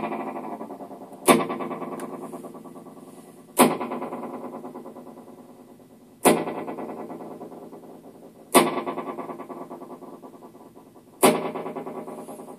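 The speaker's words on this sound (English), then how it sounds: "You can adjust the delay of each circuit." Two chained PT2399 delay chip circuits repeat a sharp input again and again, each strike followed by a trailing wash of echoes that decays before the next; five such bursts spaced a couple of seconds apart, no talking.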